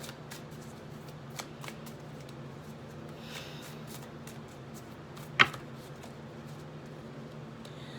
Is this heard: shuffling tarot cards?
yes